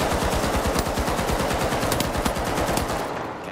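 Rapid automatic gunfire in the video game The Finals, a loud continuous burst of fast regular shots lasting several seconds before tapering off.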